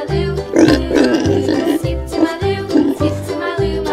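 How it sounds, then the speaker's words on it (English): A pig grunts and oinks in rough, snorting bursts, loud and close, repeating irregularly over a steady rhythmic low thumping beat that pulses through the whole stretch. "Pig."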